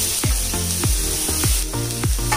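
Vegetables for a white sauce pasta sauté in a pan over browned onion, giving a steady hiss. A repeating falling tonal sweep sounds over the sizzle several times.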